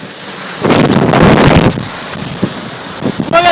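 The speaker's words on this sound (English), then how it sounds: "It's a blinding rain. Wind gusts probably between 70 and 80 miles per hour." Severe storm with blinding rain and wind gusts near 70 to 80 mph, loud bursts of wind roaring against the microphone in surges, with a brief whistling tone near the end.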